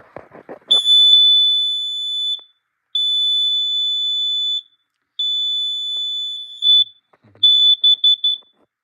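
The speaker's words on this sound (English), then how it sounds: "just press the button and yeah, it will test the alarm" A smoke alarm sounds during a button-press test in long, piercing high-pitched beeps, four sustained tones separated by short gaps, ending in a rapid series of short chirps.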